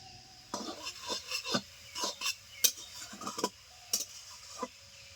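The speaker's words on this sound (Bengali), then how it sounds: "ভালো করে নেড়ে চেড়ে গাজরগুলোকে ঘিয়ে ভেজে নেব" Carrots stirred and fried in ghee, heard as repeated soft scrapes and clinks of a spoon against the pan in an uneven rhythm over a faint background sizzle, close and fairly quiet.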